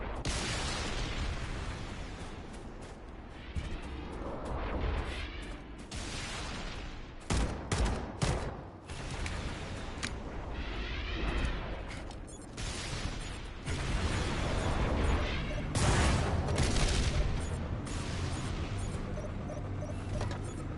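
Heavy combat in Halo Campaign Evolved with Wraith tank plasma mortar fire: repeated booming blasts and dense weapon fire crowd together continuously, loud and chaotic, with a few sharp bursts standing out over the din.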